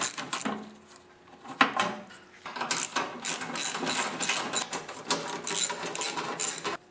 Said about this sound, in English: to do this I'm going to use a 1/2 inch socket and a ratchet